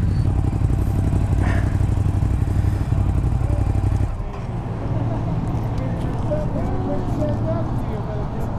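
A 2018 Ducati Monster 821 being ridden, with a steady engine drone and wind rush close up, then a drop in pitch and intensity partway through as the rider eases off. Someone talks over it.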